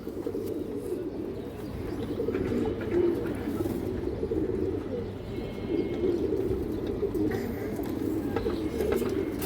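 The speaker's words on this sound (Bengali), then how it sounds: "এই যে দেখেন দর্শক পাথর চোখের কবুতর" Domestic pigeons, including stone-eyed (pathor chokh) birds, cooing in a loft: a low, continuous rolling murmur of many overlapping coos, moderately near and steady throughout, with no talk over it.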